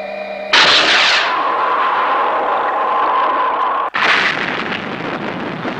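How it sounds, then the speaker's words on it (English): A mining platform under bombardment in the puppet adventure series Stingray: a loud explosion bursts out and rumbles away, then a second heavy blast strikes a few seconds later. "The mining platform! It's being bombarded!"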